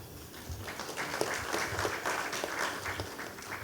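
An audience at a national conference on technical textiles and sports tech gives a round of applause. It is moderate and somewhat distant, with rhythmic hand claps blending into an even patter.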